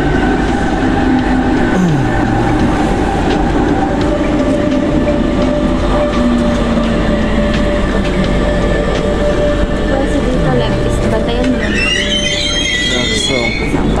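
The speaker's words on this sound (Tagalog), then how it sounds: "Ito na pala yung train natin." A train rumbles steadily and loudly into Hamburg Airport station, with a continuous low roar, tonal whines and brief squeals, and people chatting nearby.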